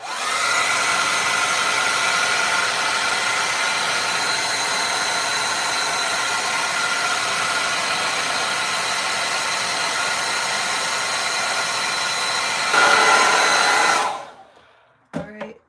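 A hair dryer blows over fresh acrylic paint, a loud, steady whooshing hum holding for about fourteen seconds before clicking off, with a brief shift in tone near the end and a couple of small knocks afterward.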